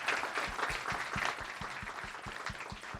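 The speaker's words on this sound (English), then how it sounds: "let's give a big round of applause to Guido and to Steve" Clapping from a tech keynote audience, heard as a faint scatter of distinct hand claps in a loose, uneven rhythm, low in level and quite distant.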